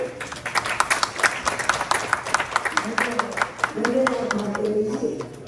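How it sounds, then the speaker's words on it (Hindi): Scattered clapping from the audience at a Hindi poetry gathering in a Laxmi Narayan temple hall, moderately loud and rhythmic, with a voice speaking over the later part. "तो हमारे देवी जी के लिए एक बार जोर से तालियां हो जाए"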